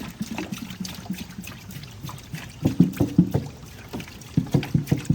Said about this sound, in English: let's say we pour water down here